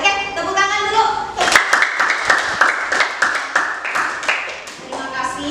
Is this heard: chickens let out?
no